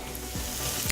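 Chunks of black pudding fry in a hot pan with a loud, steady sizzle that runs close and unbroken throughout, with no talking over it.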